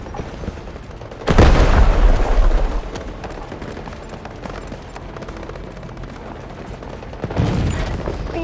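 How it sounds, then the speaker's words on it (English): Artillery barrage explosions in the shooter game Delta Force: a loud, heavy booming burst of impacts lasting about two seconds, then a lower rumble of distant battle, and a second swell of blasts near the end. "Artillery barrage incoming."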